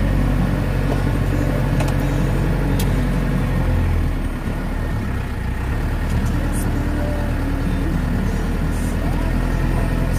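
Vehicle driving slowly over a cambered bush track in Cape York, a steady low engine rumble with rattles and bumps throughout, close and continuous with no talking.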